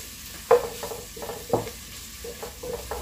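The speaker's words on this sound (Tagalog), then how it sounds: "gisa lang natin" Food being sautéed in a pan, a soft steady sizzle punctuated by a few sharp scraping knocks of a utensil stirring against the pan.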